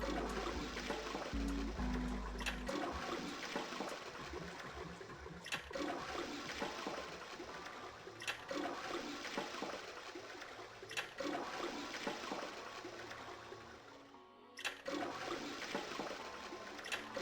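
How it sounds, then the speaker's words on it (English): A toilet flushes in the video game 999, a continuous rushing and gurgling of water that runs for many seconds at low level, with soft rhythmic knocks recurring throughout and a brief lull near the end. "I'll be ready to flush the toilet 7"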